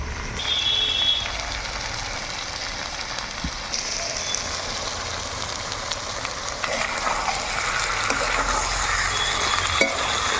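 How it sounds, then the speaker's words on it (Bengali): Ash gourd and mutton trimmings sauté in a pan with salt and turmeric, giving a continuous close sizzle with occasional stirring scrapes and no talk. "চাল কুমড়া লাভ দিয়ে হলে আমরা কিন্তু খুব সুন্দরভাবে কষিয়ে নিব"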